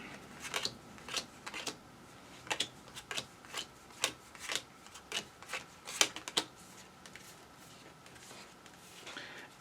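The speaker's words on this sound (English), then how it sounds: "So they're going to shuffle up." Board game cards for a Normandy wargame scenario are shuffled in a series of crisp riffles and snaps, each a short sharp burst recurring roughly every half second, close and fairly quiet with no talk.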